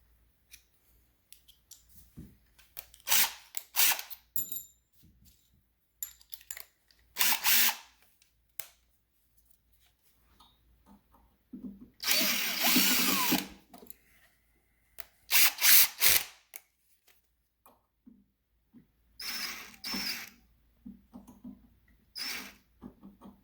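A power drill loosens the belt tensioner fasteners on a Saga Precision series CNC carriage, giving a few short, close whirring bursts between quieter handling clicks, with no talk.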